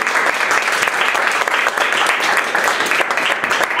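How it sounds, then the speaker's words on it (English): An audience at a critical animal studies conference bursts into sustained applause, many hands clapping loudly and evenly for several seconds with no voices over it. "Give them a big old round of applause"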